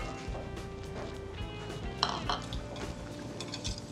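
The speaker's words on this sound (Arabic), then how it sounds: "سوري بس لانه مضطر احرك" A spoon or whisk stirs a batter of eggs, oil and milk in a bowl, giving quick rhythmic scraping and clinking against the bowl, close up and continuous for several seconds with no talk.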